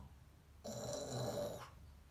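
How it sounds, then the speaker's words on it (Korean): Loud, rasping snore from a sleeping father, a single drawn-out breath lasting about a second, heard alone against a faint background hiss. "아빠는 벌써 드르렁 드르렁 코를 골아요"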